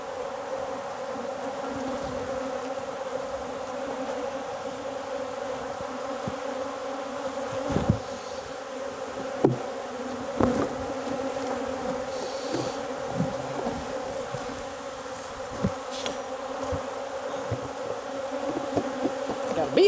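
Honeybees from a relocated backyard hive in Jacksonville, Florida buzz steadily and close throughout, a dense continuous drone with a few brief louder passes as individual bees fly near.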